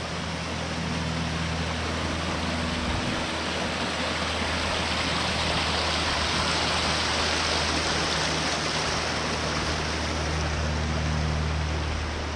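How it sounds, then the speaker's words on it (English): A creek rushes steadily near a turkey-hunting spot in New York, a continuous broadband wash of flowing water that stays loud and unbroken throughout. "hopefully I can get away from this creek noise"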